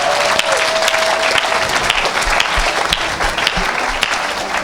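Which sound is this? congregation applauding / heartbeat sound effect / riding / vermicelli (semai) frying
congregation applauding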